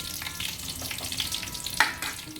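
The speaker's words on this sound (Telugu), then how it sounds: "మన తాలింపు వేగింది" Hot oil crackles and sizzles steadily as a tempering for tomato-mint-sesame chutney fries, with a brief sharp pop near the end.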